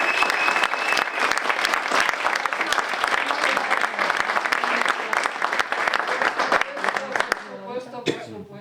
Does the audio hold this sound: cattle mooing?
no